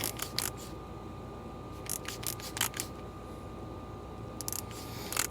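A torque wrench tightens a bolt to 65 foot-pounds on a 1965 Mustang undercarriage, producing sharp ratcheting clicks in short bursts separated by pauses, close and crisp over a quiet background hum.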